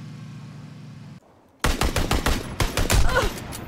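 Loud rapid gunfire from PUBG, coming in fast bursts after a quieter stretch of steady in-game ambience and a brief near-silent gap.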